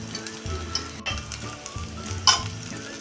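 Rice being sautéed in a pan for saffron coconut rice, a steady sizzle with scraping stir strokes recurring every half second or so, close and moderately loud, no voices.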